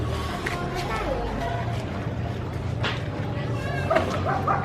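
Puppies on a neighbourhood street in the Philippines yip and whimper in short high bursts, close by, over steady street background with voices around.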